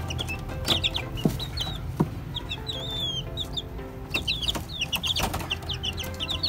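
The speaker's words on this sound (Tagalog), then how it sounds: "So ito na yung mga sisiw natin." Young chicks in a rooftop pen give repeated soft clucks and high chirps, scattered and moderately near, over a faint steady background hum with a few light knocks.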